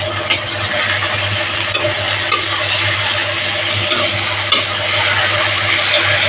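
A large tomato drops into a pan of hot spices and oil, setting off a steady loud sizzle with occasional stirring scrapes and clicks throughout.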